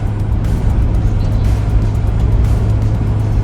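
A Suzuki Jimny engine drones loudly from inside the cabin as it is shifted into fifth gear on the road, a steady low rumble with road noise and no clear rev change.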